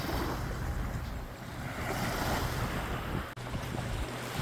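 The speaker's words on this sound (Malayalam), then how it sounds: "ബോട്ട് ഫൈബർ പോകുന്നുണ്ട്." A fiberglass motorboat drones out on the sea beneath gusty wind and the wash of surf, steady and moderately distant.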